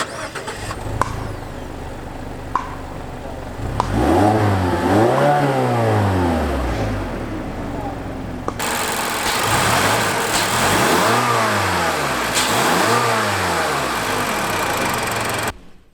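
A 2017 Mazda 6 sedan's 2.5-liter inline-four starts and idles, then revs up and back down several times in rising and falling sweeps, loud and close, with a steady idle hum between the revs.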